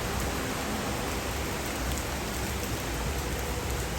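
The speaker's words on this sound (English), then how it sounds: "This is the first really big rainstorm we've seen." Heavy rain pours down during a big Orlando rainstorm in a dense, continuous hiss and patter, loud and steady throughout with no voices.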